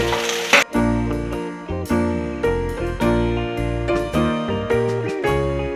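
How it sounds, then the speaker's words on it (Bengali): Mixed vegetables for Bengali sukto (green banana, drumstick, yardlong beans, pointed gourd and flat beans) frying together in a pan, with a steady loud sizzle broken by a few brief clinks and stirring noises; no speech. "সব একসাথে ভাজবো।"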